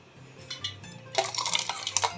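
Ice cubes stirred into a chilled fennel seed mint lemonade with sabja seeds, a brief soft swirl followed by close, bright clinks and rattles of ice against the glass.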